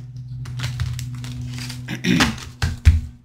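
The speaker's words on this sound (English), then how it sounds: "We'll do another shuffle here." Tarot cards shuffled by hand during a reading: soft, papery rustles and riffles over a steady low hum, building to two louder, crisper bursts near the end.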